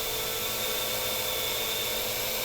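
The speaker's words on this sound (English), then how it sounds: "That's the sound of the AR drone" An AR drone flying robot gives a steady high-pitched electric buzz and whir, loud and unbroken at close range throughout, at a city Science Day event.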